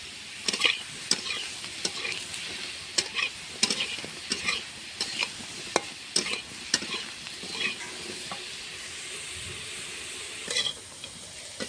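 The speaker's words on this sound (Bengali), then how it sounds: "আলুটা হালকা করে ভেজে নিয়েছি। দিয়ে দেবো সামান্য একটু হলুদ গুঁড়ো" Potato pieces fry in a pan with a pinch of turmeric, a soft steady sizzle broken by a dozen or so sharp scraping knocks of a spatula turning them.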